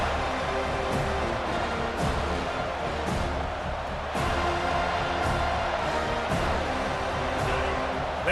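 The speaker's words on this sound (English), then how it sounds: "They challenge this crowd to bring the energy, and I'd say they're doing that." Simulated stadium crowd at a college football game in EA Sports College Football 25, cheering as a steady dense roar with rhythmic swells, loud and continuous without a clear voice on top.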